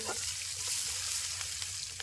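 Silver carp fish frying in mustard oil at night gives a soft, steady crackling sizzle, faint and continuous with no voices.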